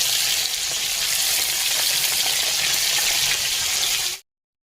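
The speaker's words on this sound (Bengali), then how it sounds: "দেখো মাছটা ভাজা হচ্ছে" Fish sizzling in hot oil in a pan, a steady, close, dense frying hiss that holds at an even loudness throughout and then cuts off abruptly near the end.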